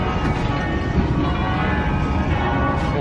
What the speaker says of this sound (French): On a les cloches qui sonnent, les églises